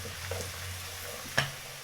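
A spoon stirs cumin and paprika into a frying pan, with a soft steady sizzle underneath and a sharp scrape or tap near the end.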